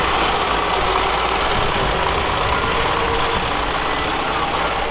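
A Mercedes Unimog off-road truck grinds along rough off-road ground, its engine a steady, loud, close drone with some mechanical clatter throughout.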